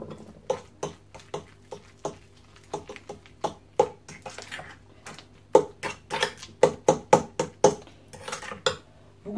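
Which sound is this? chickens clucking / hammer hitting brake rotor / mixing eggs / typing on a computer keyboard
mixing eggs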